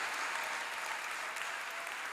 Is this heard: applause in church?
yes